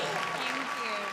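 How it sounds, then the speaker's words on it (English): A brief burst of steady crowd applause at a Miss Universe Malta pageant show, the clapping blended with sustained background music. "she deserves a round of applause, definitely, definitely so."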